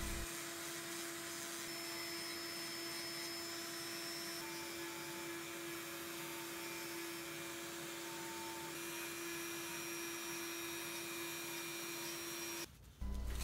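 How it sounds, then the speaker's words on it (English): A power carving tool fitted with a diamond flame bit refines a carved bird's beak, giving a steady whining hum that holds evenly for the whole stretch before cutting off abruptly near the end. "After I have a rough shape, I start to refine the beak with a diamond flame bit."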